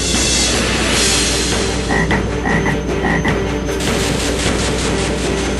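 Loud synthesized frog croaking from the Frog Song spell in Final Fantasy 7 on PC, a dense continuous burst of croaks with repeated chirping tones over game battle noise, no talk.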